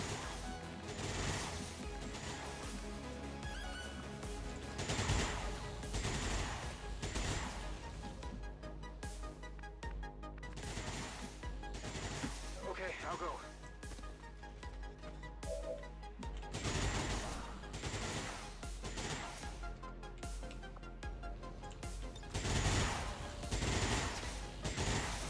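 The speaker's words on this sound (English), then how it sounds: "I actually wanted to stasis the guy that is shooting at Bradford" Bursts of gunfire and crashing impacts from the XCOM 2 video game, repeated shots and automatic fire rattling throughout at moderate level, with no talk.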